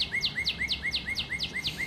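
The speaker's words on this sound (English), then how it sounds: "Cardinal." A northern cardinal sings from a bird call recording, a fast, even series of bright, sweeping whistled notes repeated about eight times in under two seconds against a soft background hiss.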